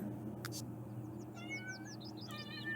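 A kitten in a game set in 2698 BC gives a few faint, high, rising meows in quick succession over a steady low background hum.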